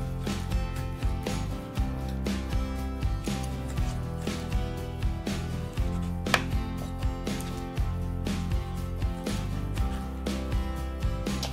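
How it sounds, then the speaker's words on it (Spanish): A knife makes repeated cuts into raw mojarra fish being prepared for cooking outdoors, with close, steady thuds on a board over a constant background hum. "Unas cortaditas a los pescaditos."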